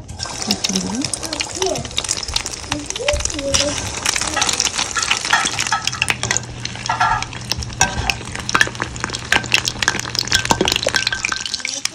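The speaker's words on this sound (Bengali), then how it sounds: "এগুলোকে একে একে এই পাশ করে জাস্ট ডিমটা মাখিয়ে নিব তারপরে গরম তেলে ছেড়ে দিলে হলো আমার তেল গরম হয়ে গিয়েছে" Egg-coated shami kebabs fry in hot oil, giving a loud, continuous sizzle with bubbling crackle and occasional stirring clatter, while someone talks over it throughout.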